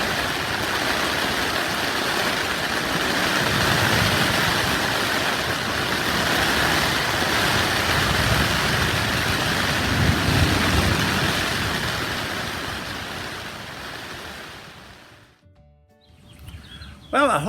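Steady heavy rain falls at a campsite in Topsail Hill State Park, Florida, a dense continuous hiss and patter on surfaces lasting most of the clip before cutting off abruptly near the end.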